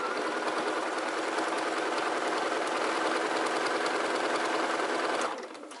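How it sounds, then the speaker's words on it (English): A sewing machine runs fast and steady while stitching on a garment waistband, a loud continuous whirring hum that holds for about five seconds and then stops abruptly. "just making it really easy for me to go ahead and sew this waistband on"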